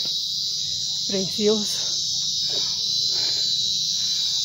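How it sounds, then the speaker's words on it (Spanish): Cicadas drone in a loud, unbroken high buzz along a mountain path, with a few short bird chirps and someone speaking a word under the steady din. "Oigan las chicharras"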